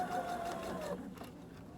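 A sewing machine runs a steady whirring stitch along the fly seam of a garment and slows to a stop near the end, close-up and fairly loud.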